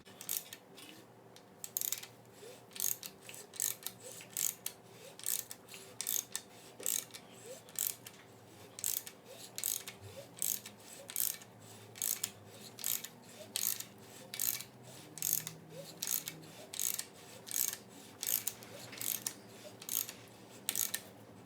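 A ratchet turns the crankshaft of a Nissan Z31 VG30 engine by hand, clicking in rapid bursts, one burst per pull, repeating steadily and close up with no voices.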